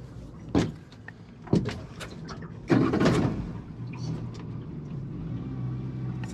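Car being started during a parasitic battery draw check, with sharp mechanical clunks and a burst of cranking, then the engine settling into a steady low rumble at fast idle, close by.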